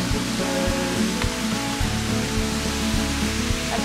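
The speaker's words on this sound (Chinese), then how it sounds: "我们终于抵达瀑布啦！" A waterfall reached on a hike roars as a steady, broad rush of falling water, loud and constant from start to finish.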